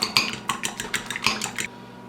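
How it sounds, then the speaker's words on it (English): A spoon clinks and scrapes against a bowl as French dressing, apple cider vinegar and honey are stirred together, a quick run of close, bright taps that stops abruptly. "So here we go with our French dressing, our ACV vinegar, and the honey. And just mix it all up."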